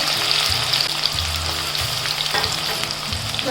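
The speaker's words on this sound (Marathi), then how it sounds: "तेल आता गरम झालंय जिरं मोहरी टाकते" Cumin and mustard seeds sizzle steadily in hot oil, a close, continuous crackling hiss with faint irregular pops throughout.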